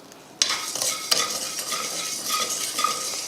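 Rock salt dry-roasting in a pan, a steady gritty hiss with a few sharp scraping clicks of a spoon stirring the grains, close and fairly loud, with no talking.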